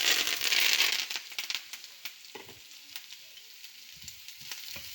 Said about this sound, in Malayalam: നല്ലോണം ഒന്ന് നെയ്ക്കകത്ത് കിടന്ന് നല്ലോണം ഒന്ന് വഴന്ന് വരുമ്പോൾ